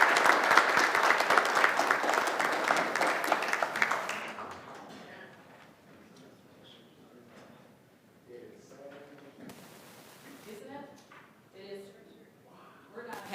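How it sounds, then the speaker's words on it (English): Applause fills a city council meeting room for about four seconds, fairly dense, then fades into quiet room sounds with light bumps and faint talk. "Please give her a round of applause."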